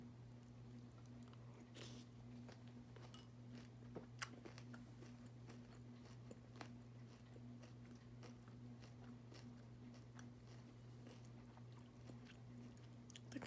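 Crunchy Special K Vanilla and Almond cereal chewed close to the mic, with a steady run of sharp crunches and bites over a constant low hum, no talking.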